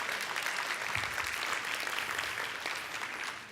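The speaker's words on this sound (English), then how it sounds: "let's give them a round of applause." Audience applause at a talk on social networks, a dense steady wash of many hands clapping that fills the room and tapers slightly toward the end.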